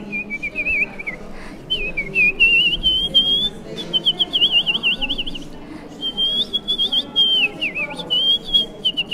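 A woman whistling in imitation of birdsong, a high clear melodic line with trills and warbles in several phrases broken by short pauses, loud and close with a faint murmur of background voices.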